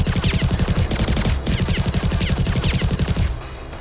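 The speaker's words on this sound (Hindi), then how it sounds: "मशीन गन से ताबड़तोड़ गोलियां दागकर" Rapid machine gun fire from a Chinese army live-fire drill, a loud, continuous stream of close, evenly spaced shots that cuts off abruptly near the end.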